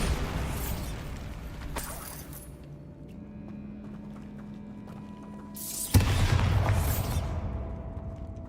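A Bombarda spell blasts in the Hogwarts Legacy video game, a sudden loud burst followed by rumbling debris, after a stretch of quieter game ambience with tones and clatter.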